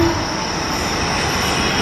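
Shivganga Express, an Indian passenger train bound for Varanasi, rumbles steadily along the rails with a broad continuous roar and faint wheel squeal, loud and unbroken throughout.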